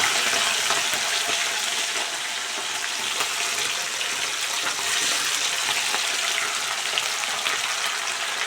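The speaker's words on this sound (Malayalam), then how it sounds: "ചിക്കൻ ഫ്രൈ ആക്കി." Chicken marinated in a masala mix sizzles steadily in a pan, a loud, dense, continuous frying hiss with no pauses and no voices.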